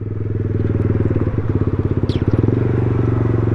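An Aprilia motorcycle engine while riding, a loud close steady rumble with a pulsing firing rhythm that rises slightly in pitch, with no talking heard.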